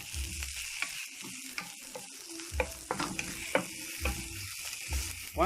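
Onions frying in a hot pan, a continuous close crackling sizzle with repeated scraping and clattering as they are stirred, in an irregular rhythm throughout.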